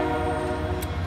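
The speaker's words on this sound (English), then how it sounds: "when the train passes" Train rolling past close by, a steady loud rumble with sustained tonal drone and a brief hiss near the end, no talking.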